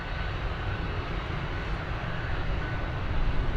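A jet airliner climbing away after takeoff from Dublin Airport, a broad roaring engine rumble heard from a distance that swells slightly toward the end, with no voices.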